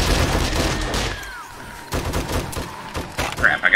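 Repeated loud shotgun blasts ring out in a zombie survival video game horde fight, dense at first, then a brief lull before more bursts of fire and clatter.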